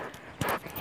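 Ridden horse's hooves clip-clopping at close range, a few quick footfalls with one louder impact midway, fairly faint overall.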